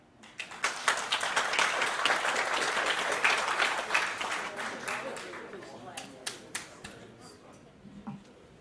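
Audience at an annual community meeting breaks into applause, a dense wash of many hands clapping for several seconds, then thinning to scattered claps and fading out.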